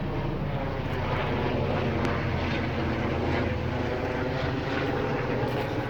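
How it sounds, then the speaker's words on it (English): A steady, loud aircraft drone fills the whole stretch with constant rotor-like engine noise overhead and no pauses. "This damn helicopter being loud as fuck."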